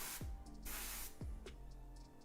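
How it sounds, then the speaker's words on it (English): Airbrush spraying paint after a clog clears, a steady broad hiss in two long bursts with brief pauses between, close and fairly loud, with faint bumps and handling noise underneath. "Sometimes you just keep spraying."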